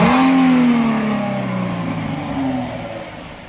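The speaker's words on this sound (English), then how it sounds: "Give it a little gas." A Ford Mustang with its stock exhaust, before new long-tube headers, x-pipe and cat-back are fitted, revs once up close, the engine note rising then sagging, with a short second blip near the end.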